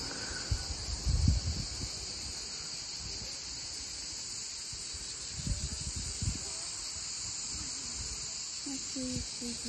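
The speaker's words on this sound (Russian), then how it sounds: "Это кузнечики стрекочут, слышишь, как громко-громко." Grasshoppers stridulating in warm grassland near Gelendzhik, a loud steady high-pitched drone running throughout, with brief low rustles and handling noise.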